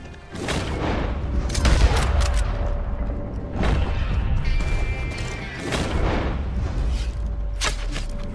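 Gunfire crackles in a Red Dead Online free-roam event: several loud, separate bursts of shots spread through the stretch, with a heavy low rumble beneath and no talking.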